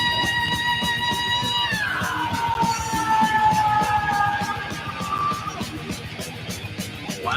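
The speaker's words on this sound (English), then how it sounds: "that dude could scream high" A long, very high-pitched vocal scream in a metal song holds a shrill tone, then slides downward over several seconds, riding loud over pounding drums and distorted guitars.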